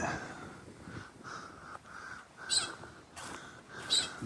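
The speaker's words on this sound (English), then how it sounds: "The birds aren't happy." Agitated birds call from a tree along a hiking trail after stormy weather, with sharp crow-like caws bursting out in short, scattered groups over a steady background hiss.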